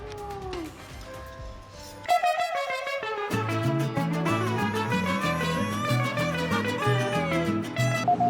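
A cat meows with rising and falling cries, then lively music with a steady beat takes over and continues to the end.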